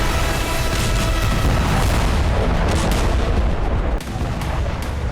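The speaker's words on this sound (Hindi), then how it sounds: "रूस के वोल्गोग्राद में मोरिनोव्का एयरबेस पर कई धमाके हुए।" Several explosions at Marinovka airbase in Volgograd, Russia, with fuel trucks set on fire, heard as a dense, loud roar of booms and cracking bursts that keeps on throughout.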